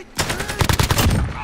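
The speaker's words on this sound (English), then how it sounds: "I shot you, Mammy, again." Rapid automatic gunfire in the video game Call of Duty: Modern Warfare, a short burst of about eight close, evenly spaced shots over a second and a half.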